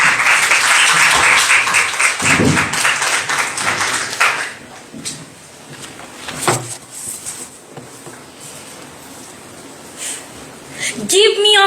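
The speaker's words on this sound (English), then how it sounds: "Angeline, you want to clap?" Applause from a school debating competition audience fills the first few seconds with dense clapping, then fades into scattered taps and room noise while people talk.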